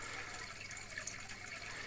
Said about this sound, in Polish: Robię jej podmiankę wody